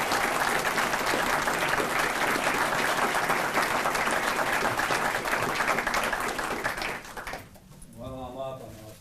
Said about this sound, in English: All right, round of applause for Kim, please.